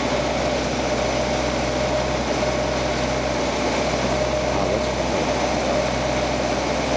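A 1949 Buick Super under restoration idles rough just after start-up, a constant loud engine drone with a slightly uneven, rumbling tone and no voices.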